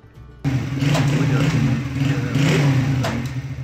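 A motorcycle engine with a worn rear drum rubber starts up and keeps running steadily, loud and close, with a rough droning hum and faint rattling clatter mixed in.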